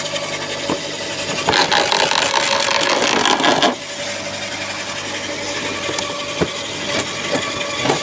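A wood shredder chips branches about 4 cm thick into ramial chipped wood. A steady engine drone runs throughout, with a harsher stretch of grinding and crunching bursts in the middle, close and loud, and no talking.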